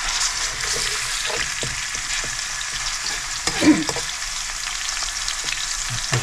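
Garlic sautés in a pan as the base for a home-style Filipino kare-kare stew, giving a continuous close sizzle with light spatula scrapes and a few soft knocks.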